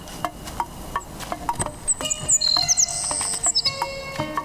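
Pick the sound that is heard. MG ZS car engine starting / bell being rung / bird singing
bird singing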